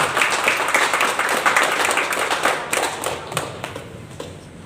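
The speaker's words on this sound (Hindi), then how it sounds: "ताली" A crowd at a network marketing plan meeting in Vatva claps for a senior, producing dense, loud applause that swells and then thins into scattered claps over about five seconds.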